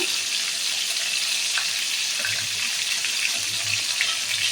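Chicken popcorn pieces fry in hot oil, a steady close hiss of sizzling with fine crackles throughout and no voices.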